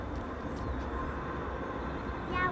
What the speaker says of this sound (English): Yeah, we live by a train.